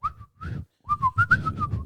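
A woman whistles a bird call, clear and close: a short warbling phrase, a brief pause, then a longer run of wavering notes.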